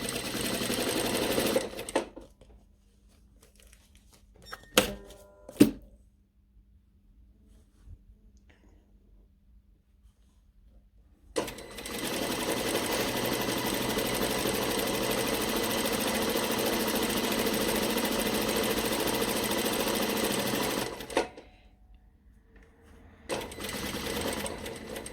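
Sewing machine stitching a fabric ruffle, a steady mechanical whirr running for about ten seconds between quieter handling clicks and taps, then starting up again at the end.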